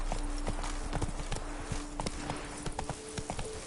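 Roach the horse gallops in The Witcher 3: Blood and Wine, hooves pounding in a fast, steady rhythm, fairly quiet, with no talk.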